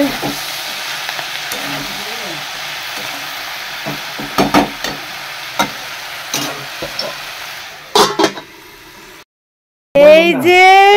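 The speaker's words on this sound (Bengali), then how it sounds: "পেঁয়াজ কলি আলু ভাজা এই যে হচ্ছে" Onion stalks and potatoes frying together in a pan for a home lunch, a steady sizzle with intermittent stirring scrapes and clatters, close up, with a brief voice and a child's sounds near the end.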